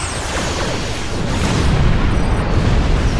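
A dense, rumbling barrage of starship weapons fire and explosions from the Star Trek Online space game, a continuous loud roar of booms with no break.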